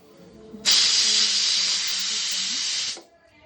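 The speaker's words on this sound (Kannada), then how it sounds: "ಸ್ವಲ್ಪ ವಾಟರ್ ಹಾಕೊಳ್ತಾ ಇದ್ದೀನಿ." Water poured into a hot pan of mutton sambar sets off a loud steady hiss of steam that lasts about two seconds and then stops abruptly.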